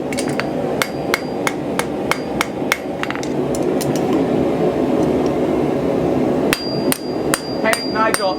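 A farrier taps hot metal on an anvil with a small hammer, a loose series of sharp, bright ringing strikes spaced unevenly, close and loud, with a pause midway before a few final blows.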